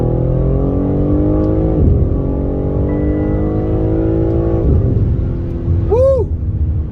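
A 2022 BMW M3 Competition xDrive in Skyscraper Grey roars through a launch-control start, its engine note climbing hard through two quick upshifts, loud and close. A person's exclamation cuts in near the end.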